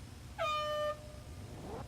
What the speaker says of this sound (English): There's a horn, he's off and running.